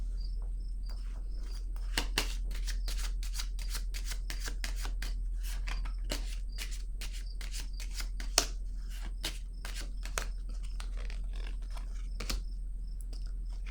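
Tarot cards are handled and laid down in a rapid, steady run of crisp clicks and flicks, close and continuous with brief louder snaps.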